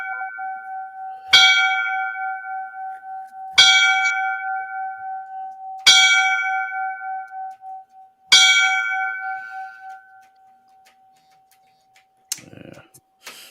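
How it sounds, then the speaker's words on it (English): Memorial bells ring for a fallen Houston firefighter: four loud, evenly spaced bell strikes about two seconds apart over a steady tone, each ringing out long, followed by quieter clicks at the end. "I will play the bells."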